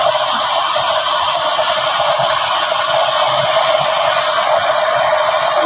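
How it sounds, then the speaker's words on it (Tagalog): Blower forcing air into a used-oil burner stove, a loud steady whooshing hiss with no change in pitch or rhythm, close and unbroken from start to finish. "Pag malakas ang buga ng blower"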